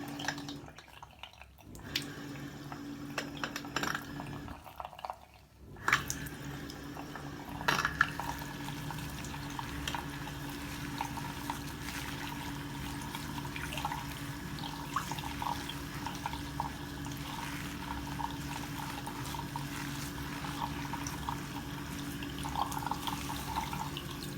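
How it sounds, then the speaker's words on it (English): Tap water runs steadily over hair being wet for a shampoo in a salon-style hair wash, a continuous close splashing flow with light dripping that carries through the whole stretch, briefly dipping quieter near the start. "So the first thing I'm going to do is just wet your hair."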